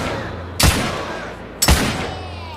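Two loud, close gunshots about a second apart in The Order 1886 video game, each a sharp crack with a heavy low punch followed by a ringing echo that fades.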